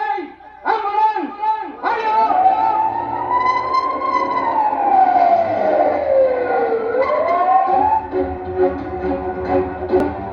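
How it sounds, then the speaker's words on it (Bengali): Ambulance siren wailing nearby, a loud tone that rises and falls slowly over several seconds, preceded by shorter yelping sweeps, with a dog barking and voices talking over it. "অ্যাম্বুলেন্স"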